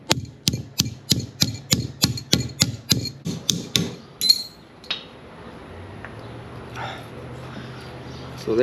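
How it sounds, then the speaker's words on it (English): A hammer strikes a stuck airline fitting on a truck's type 20 service brake chamber, about a dozen sharp metallic blows in a steady rhythm, then a few scattered knocks and quiet handling. "Might have to hit it with a hammer."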